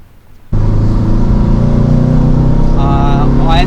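A Porsche 356C engine starts abruptly and runs steadily with a strong, loud idle-to-rev drone, rising in pitch toward the end as it revs up; speech-like sounds appear faintly over the engine near the close.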